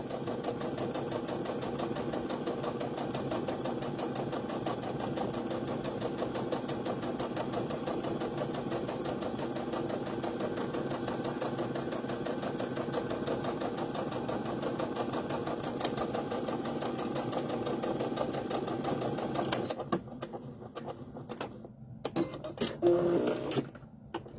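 A sewing machine stitches a fabric wrist key holder in one long steady run of rapid, even needle strokes, close and continuous, before slowing into a few uneven stops and clicks at the end.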